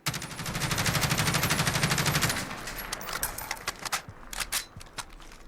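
Sustained automatic fire from an HK433 converted to an IAR rifle in Call of Duty Modern Warfare, a fast even stream of close, loud shots that gives way to scattered single shots and clattering.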